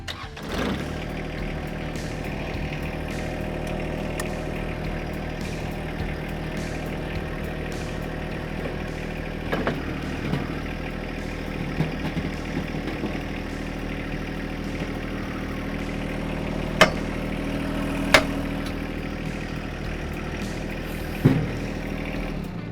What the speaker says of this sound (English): I'll jump back on it, fire it up, and bring the loader back onto it using the tractor's hydraulics.